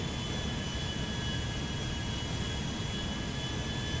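Steady, continuous roar of Airbus A380 jet engines in a flight video game, a broad even drone with faint high whine tones, constant loudness throughout with no talk.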